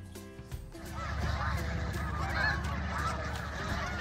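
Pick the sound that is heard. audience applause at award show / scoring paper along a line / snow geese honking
snow geese honking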